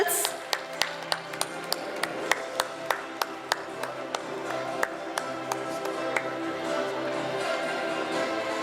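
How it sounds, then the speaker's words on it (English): Scattered audience clapping greets prize winners at a college International Women's Day celebration, a sparse, irregular run of sharp claps that thins out over several seconds. "Clap for them"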